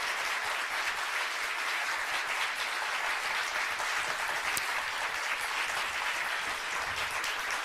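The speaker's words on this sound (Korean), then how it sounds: "큰 박수 보내드리겠습니다." Applause fills the hall at the opening ceremony of a Korean diaspora next-generation convention, a sustained, even burst of many hands clapping that holds steady for several seconds with no voices over it.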